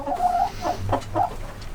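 Old Ancona hens clucking up close, several short, throaty clucks in a loose rhythm over a faint barnyard background, with no talking.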